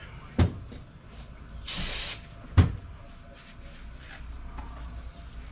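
A short hissing burst from a can of cleaner sprayed on engine parts between two sharp knocks, over a low steady background hum.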